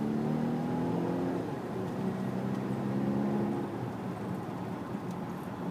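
A Volvo XC90 Recharge T8 AWD Inscription plug-in hybrid accelerating from inside the cabin, a steady engine hum and whir rising slightly in pitch over several seconds with road noise beneath, no talking.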